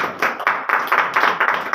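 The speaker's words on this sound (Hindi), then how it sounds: "पहले जोर दी तालियां लाओ जरा," A church congregation in Rawalpindi claps in a quick, rhythmic burst of hand claps, close and fairly loud, with no talk over it.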